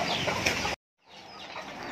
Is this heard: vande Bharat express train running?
no